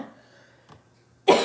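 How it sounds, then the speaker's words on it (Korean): A quiet, near-silent stretch with a faint breath, then one abrupt, loud cough close by. "왜 이렇게 기침이 나오지?"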